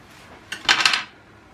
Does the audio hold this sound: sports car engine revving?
no